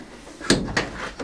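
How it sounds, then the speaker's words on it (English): A door on a 1955 Fargo truck being opened in a workshop, giving a few short mechanical clunks and creaks close by, with no talking. "the door opens!"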